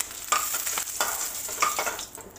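Eggs fry in hot oil in a pan, seasoned with turmeric, for an Assamese egg curry. A steady close sizzle runs throughout, with stirring and spatula scrapes breaking through every second or so and no talking.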